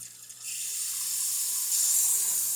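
The steam wand of an Isomac heat exchanger espresso machine hisses in a steady, bright rush after a soft start, rising slightly louder toward the end with no voices.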